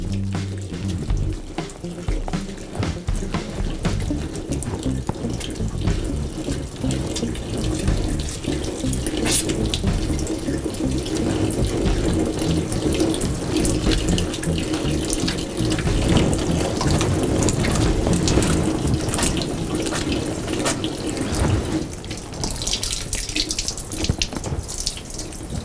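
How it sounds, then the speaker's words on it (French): Water pours steadily from a tap into a sink as hands are wetted for handwashing, a continuous close splashing hiss that runs unbroken for the whole stretch. "il faut toujours penser à se mouiller les mains avant de prendre une dose de savon"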